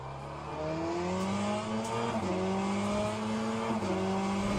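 Race car engine in the Le Mans Ultimate racing game, loud and steady, with rising revs through the gears and brief dips at each shift. No voices.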